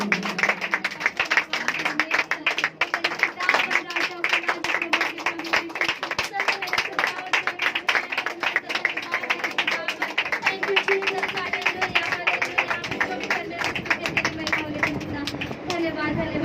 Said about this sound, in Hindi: जोरदार ताली बजाएंगे, जोरदार।